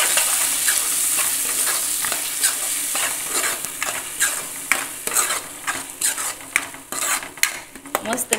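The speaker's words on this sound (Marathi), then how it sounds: "मस्त मिक्स करून घेऊ।" Tomatoes and salt are stirred in a pan while they fry for a spicy katachi amti curry, giving a steady close sizzle broken by repeated scraping strokes of a spoon against the pan, with no talk.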